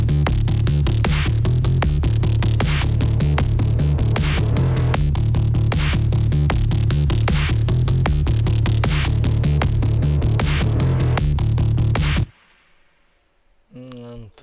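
Reversed brass-like sound effect in DOOM-style sound design: a dense, loud stream of rapid rhythmic hits and swells that cuts off abruptly, followed by a brief faint low tail.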